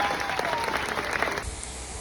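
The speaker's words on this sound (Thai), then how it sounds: "ขอเสียงปรบมือดังๆ ให้กับเจ้าหน้าที่สาธิตอีกครั้งหนึ่งครับ" Applause from an audience at a police tactical demonstration at a shooting range, a dense patter of clapping lasting about a second and a half before it fades into quieter room noise.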